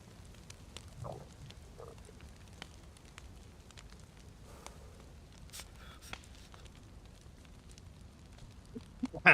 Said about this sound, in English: The Goblin emergency fire method in the rain.